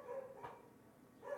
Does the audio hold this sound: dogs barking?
yes